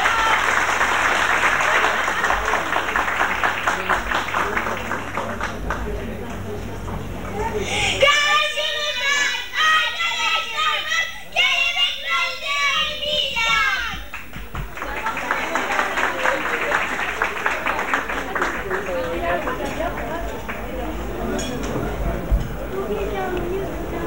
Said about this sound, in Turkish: Evet, alkış olsun efendim dediklerimize.